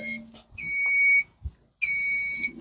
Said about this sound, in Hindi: ये बजर ऐसे बजता है,